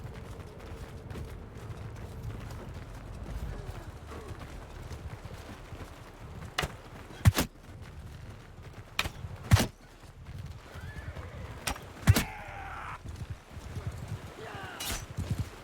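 Cavalry horses in the Mount and Blade Bannerlord video game whinny and neigh amid hoofbeats and battle noise, with sharp loud impacts punctuating a steady rumbling background.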